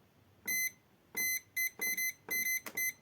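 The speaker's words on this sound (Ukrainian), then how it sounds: "подає звуковий сигнал, якщо порушується цей горизонт" A laser level's warning signal: a series of sharp, high electronic beeps, some longer and some in quick pairs, sounding alone against near silence.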